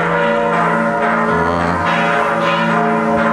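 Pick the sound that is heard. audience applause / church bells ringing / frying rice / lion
church bells ringing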